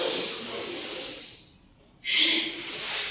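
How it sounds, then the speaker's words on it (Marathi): Forceful bhastrika pranayama breathing at a volleyball players' training camp gives loud, rushing breaths. A strong hiss of air drops into a brief pause, then a sharp forceful breath follows, close and without talk. "आता श्वास घ्यायचा वरती जाताना माझ्या बरोबर बघा."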